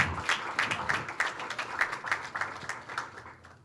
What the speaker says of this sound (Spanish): peço um aplauso para o meu missionário